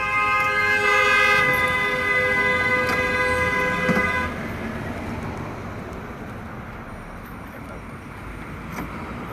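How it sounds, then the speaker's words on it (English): Car horns blare in street traffic saluting Trump supporters in New Orleans: a sustained, loud horn blast for about four seconds, then a low traffic rumble with faint background voices. "All these people honking for Trump."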